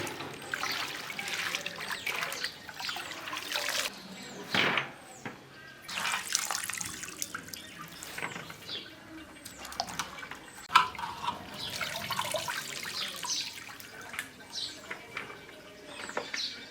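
Water trickles and splashes in uneven bursts as washed, cut potatoes for crispy homemade chips are drained in a home kitchen, with drips and pours close by and no speech.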